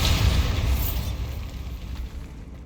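A Bombarda spell blast from Hogwarts Legacy: a loud, deep rumbling boom that swells at once and slowly fades over a couple of seconds, with no talk.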